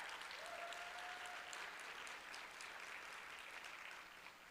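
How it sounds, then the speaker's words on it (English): An audience at an opioid abatement conference gives a round of applause, a steady wash of many hands clapping, fairly distant and even, tapering slightly near the end. "Give Jamie a round of applause."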